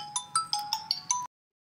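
A mobile phone rings for an incoming call, playing a bright electronic melody of six quick, close tones in a rising and falling pattern that cuts off abruptly into silence.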